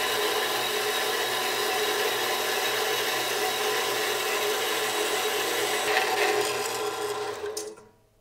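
A power saw cuts through a stack of steel leaf springs for a 1964 VW Beetle suspension, giving a continuous harsh, grinding rasp that holds steady for several seconds before winding down and stopping.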